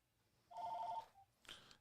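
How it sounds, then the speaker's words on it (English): Telephone ringing in a radio studio during a live sports talk show, one short electronic trill followed by a brief fainter second burst, quiet and isolated with no talk over it. "I love answering the phone live on air."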